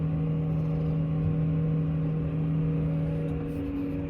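A tractor at a hay field drives steadily with a continuous low engine drone and hum, close and unchanging, with no voices.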